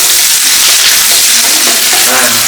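Dried red chillies and curry leaves fry loudly in a pan for a village-style country chicken curry, a dense close sizzle with stirring scrapes throughout.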